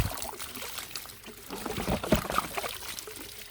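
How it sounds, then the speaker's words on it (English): Water draining from a backyard pond into a 5-gallon bucket filter, a steady rushing pour and trickle heard up close with no talking. "Right now, the pond is just draining right now."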